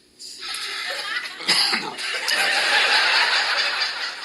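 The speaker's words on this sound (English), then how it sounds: "please turn and cough." A person gives a short cough, followed by breathy, laughing sounds, close to the listener.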